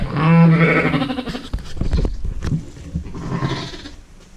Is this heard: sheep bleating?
yes